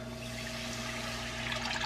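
Milk pours steadily into a pan for mac and cheese, giving a faint, continuous liquid trickle without any talk.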